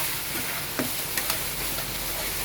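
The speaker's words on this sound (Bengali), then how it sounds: "আমরা এটাকে নাড়াচাড়া করে নেব।" Potatoes with turmeric and salt stirred in a pan for a tomato-potato kachki fish curry: a faint, steady frying sizzle with a few soft clicks of the spoon against the pan.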